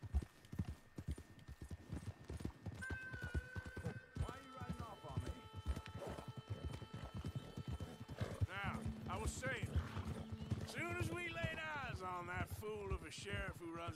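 A horse gallops in Red Dead Redemption 2, its quick hoofbeats pounding steadily under musical score and characters talking, with the voices growing more prominent toward the end.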